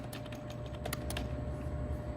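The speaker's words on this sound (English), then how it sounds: "I moved from my field here just with the down and up arrow keys" Arrow keys on a computer keyboard are pressed in a quick run of clicky taps, several sharp close keystrokes over a low steady machine hum, then quieter.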